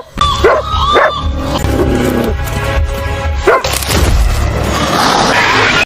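A hunting dog barks loudly and close in the Australian outback, a few sharp barks and yips coming early in the clip. Thumps and rough background noise follow.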